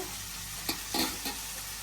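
Eggplant frying in a pan with a soft, steady sizzle, punctuated by a few quick scrapes of stirring, faint and close.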